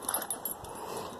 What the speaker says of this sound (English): She's a toy fox terrier.